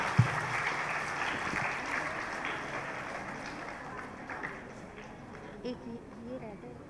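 Children in a school hall clap to welcome a Vedic scholar on stage at a girls' college Independence Day cultural program in Karol Bagh, Delhi. The applause is a steady, broad wash of many hands that holds level throughout, with murmuring voices mixed in.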